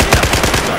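Automatic weapon fire in the video game Battlefield 4 during a competitive 5v5 match, a rapid loud burst of shots in quick succession.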